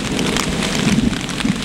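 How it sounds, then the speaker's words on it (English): Heavy rain drums steadily on a hammock shelter in Tennessee during a thunder and lightning storm, a dense close patter with low rumbling underneath and no voices. "in the Tennessee hammock during a thunder and lightning storm."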